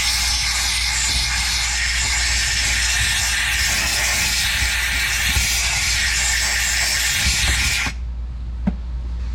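A steam cleaner hisses in a loud, steady, close jet as it works on sticky grime inside a worn Toyota 4Runner. The hiss keeps going for about eight seconds, then cuts off sharply, leaving faint clicks.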